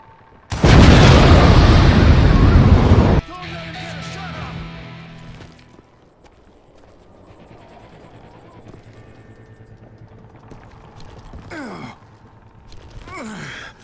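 A dynamite blast in the Western shooter game Call of Juarez: Gunslinger, a sudden loud roaring burst lasting a couple of seconds, then a lower rumbling tail fading into quieter game ambience and scattered effects.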